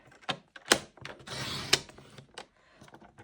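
Scissors cutting thin strips from a scrap piece of cardstock, heard as several sharp, close snips and clicks separated by a brief stretch of papery rustle, fairly quiet, with no talk.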